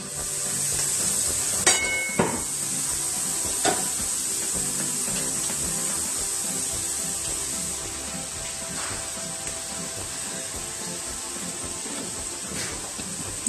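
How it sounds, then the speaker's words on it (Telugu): Fresh grated coconut frying in a pan for a homestyle carrot curry, giving a steady close hiss and sizzle throughout with a few brief clinks of stirring and no talk. "వేసాక ఒక 5 మినిట్స్ ఫ్రై చేయండి."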